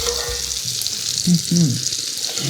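Butter-braised burgers sizzle in a Staub cast iron skillet, a steady close frying hiss with a few short low knocks and scrapes partway through.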